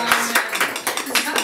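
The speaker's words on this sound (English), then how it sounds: "let's give a warm round of applause for Ken Bauman" Brief applause from a small audience at a book reading event, with a handful of distinct, uneven claps in a short, close burst.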